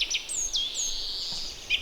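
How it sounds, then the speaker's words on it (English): Birds singing close by in bright, high chirps and whistled slides, a few quick calls one after another over a quiet background with no talking. "Another great way to start the day is to listen to these birds singing"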